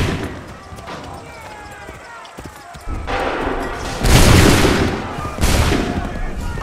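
Musket volleys ring out in the Assassin's Creed III video game, a thin crackle giving way to loud, dense bursts of massed gunfire that swell and then pause and return, with shouted battle commands mixed in.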